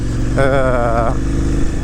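A KTM 990 Adventure S motorcycle engine revs in a brief, loud, close burst, its buzzing tone rising and then falling back to a steady drone.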